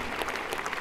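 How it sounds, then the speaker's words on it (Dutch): A brief burst of audience applause at a music awards show follows a performer's bow, a dense steady clatter of many hands. "Kijk, dan krijg je applaus."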